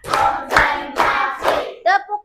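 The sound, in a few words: class clapping hands in a counted concentration clap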